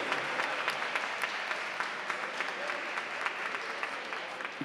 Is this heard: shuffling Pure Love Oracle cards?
no